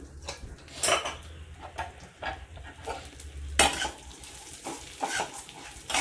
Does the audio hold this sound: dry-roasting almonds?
yes